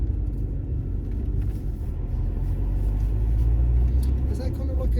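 Steady low rumble and drone of a Lotus Emira sports car's transmission heard from inside the cabin on the road, loud and continuous throughout.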